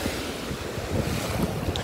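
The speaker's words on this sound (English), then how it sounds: "Everybody's out in the surf, hanging out." Ocean surf washing onto a beach with blue water, a steady broadband wash of waves with wind buffeting the microphone throughout.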